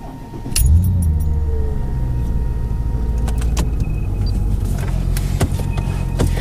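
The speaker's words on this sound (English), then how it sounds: "I'm going to get the car started, go for a little drive, and see what you guys think." A Mercedes-Benz E55 AMG W210 with a Kleemann 55-K2 supercharged engine and a misfire fault starts with a short crank, then settles into a low, steady idle rumble close by, with scattered clicks and small mechanical taps over it.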